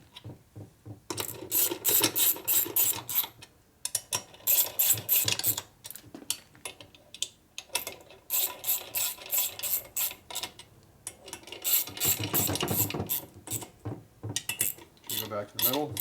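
A wrench ratchets down the bolts on a 1965 Harley 74ci FLH panhead engine during a rebuild, with rapid clicking bursts and metal-on-metal clatter, close and loud, pausing between bolts.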